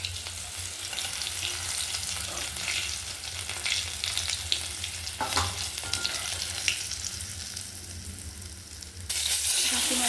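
Fish fries in a pan with a steady, moderately loud sizzle and a few stirring knocks; the hiss rises briefly near the end.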